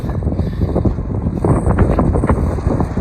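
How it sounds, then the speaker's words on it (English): Gusty wind buffets the microphone outdoors on a snowy day by a picket line, a continuous loud low rumble that swells and surges in waves with no speech. "It's getting kind of windy here."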